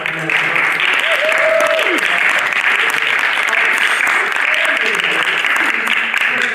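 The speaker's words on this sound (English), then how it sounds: "Let's have a hearty round of applause" Dense, sustained applause from an audience at a game-show style finale, loud and continuous throughout, with a brief voice or whistle-like tone rising above it early on.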